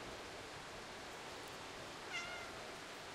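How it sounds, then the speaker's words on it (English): A single short cat meow from the Stray video game, faint and brief over a hissing background, with no talking around it. "Meow."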